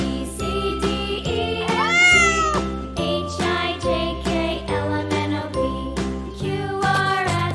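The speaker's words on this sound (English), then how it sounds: "C for cat." A cat meows a couple of times, mid-loud cries rising and falling, woven into bright, jingling, tinkly music that plays throughout.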